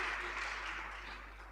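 Attendees at an HIV counseling training course give a closing round of applause, a steady, even patter of many hands with a low hum underneath, fairly quiet.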